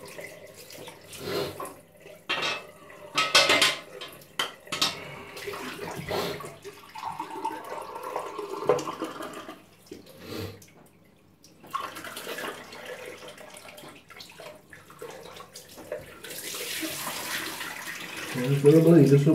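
Tap water runs into a bathroom sink as a man rinses his face after shaving, splashing in uneven bursts with pauses and a steadier stream near the end, heard at close range.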